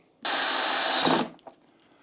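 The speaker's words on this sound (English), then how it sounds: "The last 4 screws we have are going to attach the head to the plate up here." A power driver sets a screw fastening an animatronic pumpkin head onto a plate, one steady, loud whir of about a second close by, ending with a small clunk.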